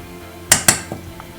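Spinach pakora batter with chili flakes mixed in a bowl, two sharp metallic clinks in quick succession followed by a softer tap, close and brief with no talk.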